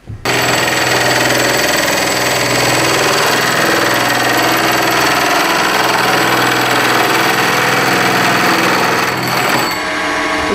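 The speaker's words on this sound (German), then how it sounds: "Sägen wir mal los." A saw cuts through a pipe in a home workshop, giving a loud, continuous harsh buzzing drone that holds steady for about ten seconds and then stops abruptly near the end, with no voices.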